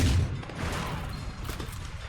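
Gunfire in the video game Sleeping Dogs rattles out as a dense burst of shots at the start, followed by a rumbling, noisy tail of continued firing and game ambience.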